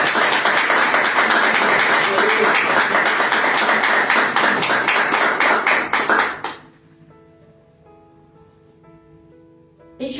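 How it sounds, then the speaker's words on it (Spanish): A church congregation in Argentina claps loudly in a fast, even rhythm for about six seconds. The clapping then stops abruptly, leaving soft, sustained music tones. "Dale un fuerte aplauso al Señor."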